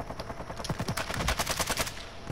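Video game gunfire: a rapid automatic burst of evenly spaced shots rattling steadily for about two seconds, loud and close with no speech.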